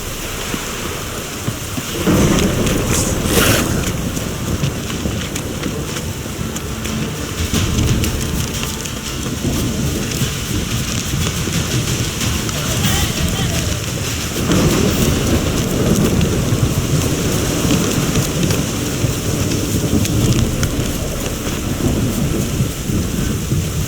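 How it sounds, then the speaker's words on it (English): Heavy downpour hisses steadily in The Witcher game world, with rolling thunder rumbling through it, a dense, loud wash of rain with no voices. "This downpour's a bastard"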